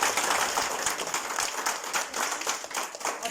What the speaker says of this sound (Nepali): आज हामी त्यही अगुवाहरूको निम्ति जोरदार तालीले बजाउनेछौँ।